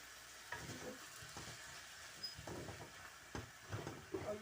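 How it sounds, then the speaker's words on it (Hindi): Spinach and potatoes frying in a little oil while being stirred with a ladle: a soft continuous sizzle broken by repeated scraping and clinking stir strokes, close and moderately loud. "तो मैं इसको अच्छी तरह डोई लेके उससे भूनती हूँ।"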